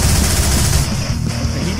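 Rapid automatic gunfire in a horror video game, a dense loud burst of shots fired close up that eases off slightly toward the end.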